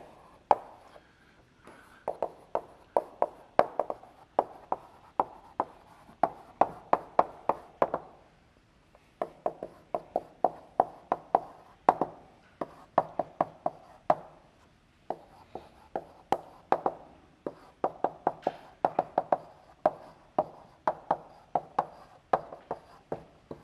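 Chalk or marker writing on a board during a university algorithms lecture, a long run of sharp taps and scrapes in uneven bursts, close and clear with short pauses between strokes.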